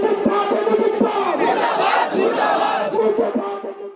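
A large crowd at a political rally in Bangladesh chants slogans in unison, loud rhythmic shouted phrases from many voices repeating in close succession.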